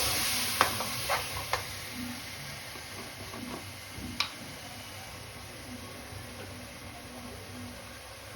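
Tomatoes sizzle steadily in a hot pan while being stirred, with a continuous frying hiss and a few sharp clinks and taps of the utensil against the pan early on and once midway.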